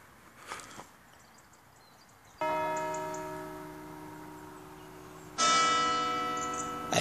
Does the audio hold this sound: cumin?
no